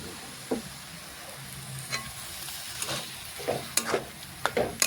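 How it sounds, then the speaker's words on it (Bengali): Chopped spinach and tomato are stirred in a sizzling pan, with a soft continuous fry under repeated spatula scrapes and taps that grow a little louder toward the end. "এখন নাড়াচাড়া করে ভালোভাবে মিশিয়ে নেব"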